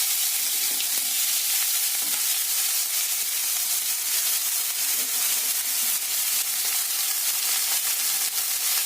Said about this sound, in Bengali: হালকা করে বেগুনগুলো ভেজে নেবো